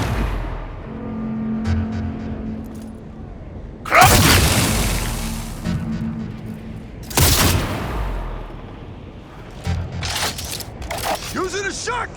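Shotgun blasts in Cyberpunk 2077: Phantom Liberty: two loud, broad booms a few seconds apart amid game noise and engine hum, with speech-like sounds and further clatter afterward.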